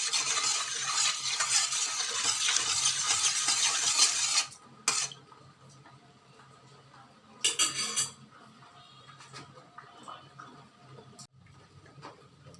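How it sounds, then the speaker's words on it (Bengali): Two tablespoons of oil mixed into batter in a bowl for Korean hotteok: a dense scraping, whisking stir for about four seconds, then sparse clinks and short bursts of utensil against bowl, no talking. "তারপর এটাকে আমি মিশিয়ে নেব।"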